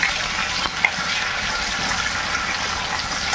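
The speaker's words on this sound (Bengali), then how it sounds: "দেখো এটাতে পুঁই শাক বসিয়ে দেবো, পাঁচ ফোড়ন, শুকনো লঙ্কা, এবার একটু পেঁয়াজ" Malabar spinach fries in hot oil with five-spice, dried chilli and onion, giving a loud, constant, close sizzle broken only by a faint clink; no voices.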